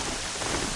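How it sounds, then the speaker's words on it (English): Steady rain hisses in the video game Horizon Zero Dawn, a dense, even wash of falling drops with no break across the short stretch and no voices. "Everything's sharp and lonely in the rain."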